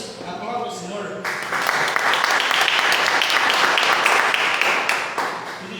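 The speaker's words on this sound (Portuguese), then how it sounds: "aplauda o Senhor" A church congregation applauds during a worship service, loud dense clapping swelling in after a brief voice at the start and holding steady before tapering slightly.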